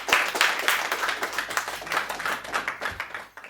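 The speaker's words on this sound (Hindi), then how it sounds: "जोरदार तालियां बजाकर" An audience at a Hindi comic poetry gathering breaks into loud clapping that swells and thins in uneven waves, with individual claps standing out near the end.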